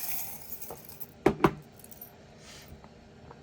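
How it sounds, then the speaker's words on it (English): A small bunch of keys, two in all, jangles in two brief metallic bursts close by, with a quiet room otherwise. "Okay, so we have keys. We have 2 keys actually."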